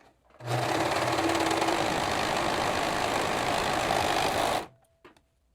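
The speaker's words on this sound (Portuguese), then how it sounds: "Tô aqui no overlock e a gente vai fazer a costura de acabamento" An overlock sewing machine runs a finishing seam in one continuous, loud whirring burst of about four seconds, starting and stopping abruptly, with a brief motor whine at the start and quiet handling afterward.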